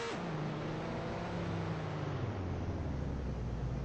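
A car engine revving while driving, a loud steady drone with the pitch dropping as the engine eases off, no voices over it.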